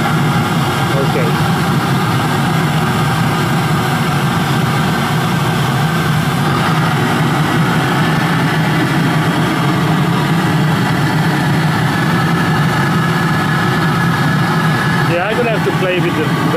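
Waste oil burning water heater running outdoors, a loud steady roaring rumble that holds constant throughout, close by, with a brief faint knock near the end.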